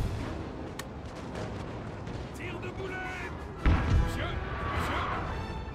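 Cannon artillery fire in the Napoleon: Total War battlefield, with dull booming shots amid a constant din of battle, one heavier thump standing out midway, while someone talks over the action.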